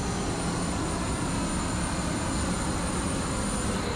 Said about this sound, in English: they are running the APU today instead of using ground power, hence the loud background noise at the tail.